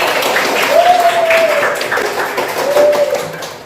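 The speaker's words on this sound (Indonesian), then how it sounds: "tepuk tangan untuk Dewi." A class of students claps and applauds in a classroom during a lesson, producing a sustained burst of close clapping.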